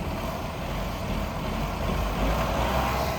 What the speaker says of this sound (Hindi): अब इसकी थोड़ी सी आपको इसकी इंजन नॉइज़ सुनाते हैं।